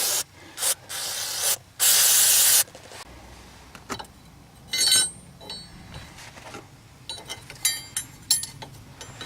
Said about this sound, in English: Before I attempt to put the new part on, I'm going to clean these splines a bit with some carburetor cleaner.